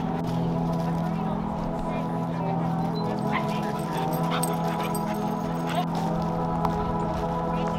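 Boxer dog whimpering and yipping at home: soft, steady high whines with a few short yips, close by, over a constant low hum, with people talking.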